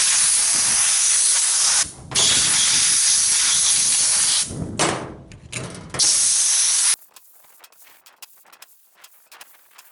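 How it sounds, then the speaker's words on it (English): A water spray rinsing metal weathervane parts, loud steady hissing bursts broken by brief pauses, then stopping abruptly into quiet with faint drips and handling sounds. "I'll go ahead and rinse all this off"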